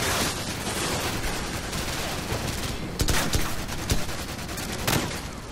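Sustained gunfire in Call of Duty 4 on Veteran difficulty at a safehouse, a dense continuous roar of automatic weapons with several sharper, louder shots punching through near the end.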